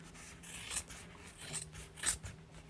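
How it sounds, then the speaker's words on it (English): Scissors snip through the fabric seam allowance of a sewn zipper pouch: three quiet, close cuts spaced apart, with soft rubbing of cloth between them and no talking. "I will trim some of it out of there"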